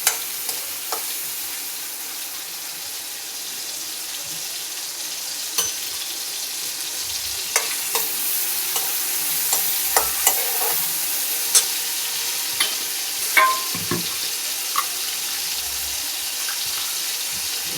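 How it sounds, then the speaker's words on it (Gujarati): Tomatoes sautéing in a pan give a steady hiss of frying with scattered stirring clicks and scrapes throughout, close and fairly loud, with no voices. "સાતળી લેવાનું ટમેટાને."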